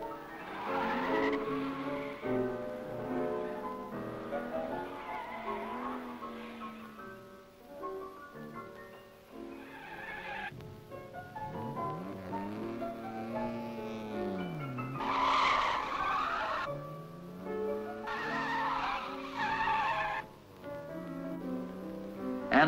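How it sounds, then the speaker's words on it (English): Cars skid and slide on a skid patch, giving off long, wavering tire squeals that rise and fall in pitch, with several drawn-out screeches over about twenty seconds and no speech. "The day ended with antics on the skid patch."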